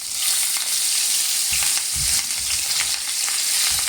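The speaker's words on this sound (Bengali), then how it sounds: "এবার আমি মাছটা হালকা করে ভেজে নেব।" Steady, close sizzling of katla fish pieces frying in hot oil, with a few soft thumps and stirring sounds underneath.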